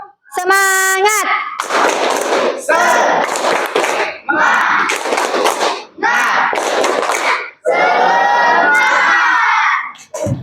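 Children in a classroom perform the tepuk semangat chant, bursts of rhythmic group clapping alternating with loud shouted chant lines, several sections separated by short pauses.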